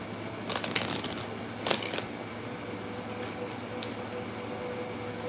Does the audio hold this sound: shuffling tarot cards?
yes